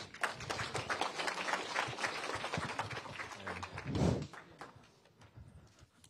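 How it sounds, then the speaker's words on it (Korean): Audience at a Sinan renewable energy residents' forum applauds to welcome a provincial energy director to the stage, a dense, steady clapping of many hands lasting several seconds before tapering off near the end. "여러분 큰 박수 부탁드리겠습니다."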